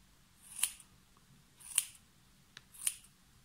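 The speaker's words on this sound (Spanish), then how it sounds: "Vamos cortando las barbas de nuestro gnomo" Scissors cut sock fabric to trim a gnome's beard, giving three crisp, close snips spaced about a second apart, with quiet between them and no talking.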